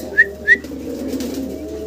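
A pair of crested Bombay fancy pigeons, two quick whistly notes followed by soft, low murmuring coos, close by over a faint steady background hum.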